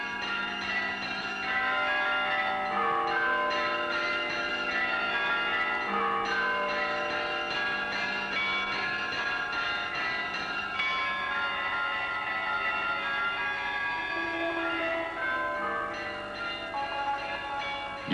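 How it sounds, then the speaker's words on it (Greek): Church bells ringing at Mount Athos, a dense, continuous peal of many bells sounding together and steadily throughout, loud and full with no voices over them. "Και φρένεται με το δοξαστικό που σκορπίζουν οι καμπάνες στα βουνά και το πέλαγο"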